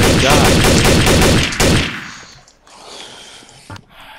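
Video game gunfire as players shoot each other, a dense rapid burst of loud close shots that cuts off abruptly, followed by a few scattered softer shots and whooshes.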